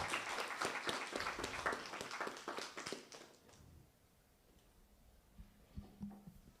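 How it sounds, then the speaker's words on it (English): Audience applause for candidates at a student union meet-the-candidates event, a dense burst of clapping for about three seconds that fades to quiet room tone, with a few faint taps and low sounds afterward. "one more round of applause for our Inclusion and Communities candidates"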